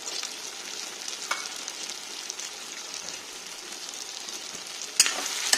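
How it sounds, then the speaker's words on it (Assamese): Pork with taro stems and crushed black pepper frying in a pan, giving a quiet, steady sizzle with small crackles and a couple of sharper spits toward the end. "এনেকৈ এতিয়া অকণমান সময় ভাজিম"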